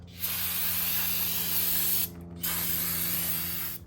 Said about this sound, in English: So now I'm just going to use some brake parts cleaner, and I'm going to spray the backing plate and clean up everything really nice.